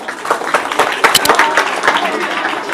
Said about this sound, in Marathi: टाळ्या.